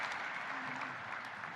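Audience clapping after the Zimbabwe Industrialization Conference and Expo 2026 is declared open, a steady, dense wash of applause that holds at even loudness throughout with no voices over it.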